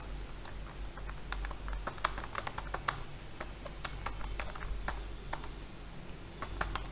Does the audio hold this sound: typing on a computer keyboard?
yes